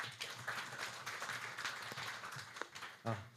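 Faint audience applause welcoming a department head to the podium at a policy symposium marking ten years of a cultural heritage care program, a steady, soft wash of many hands clapping across the room for a few seconds.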